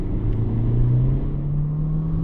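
A new Honda Civic engine at full throttle on snow, its steady loud drone rising slowly in pitch as traction control holds it back, heard from inside the car with no talk.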